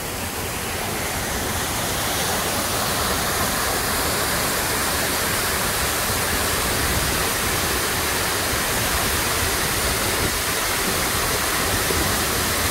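A waterfall in Meiringen, Switzerland roars in a loud, steady, broadband rush of falling water that fills the whole scene without a break.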